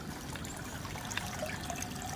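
Water steadily trickles from a miniature artificial waterfall set among potted plants, a soft continuous dribble at close range with no voices.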